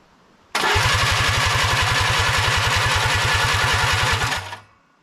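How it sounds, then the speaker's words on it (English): A Willys CJ-2A Jeep engine cranks over steadily with a rapid, even chugging rhythm for about four seconds, loud and close, then stops abruptly. "Thankfully the engine seems to turn over nicely and it's building oil pressure."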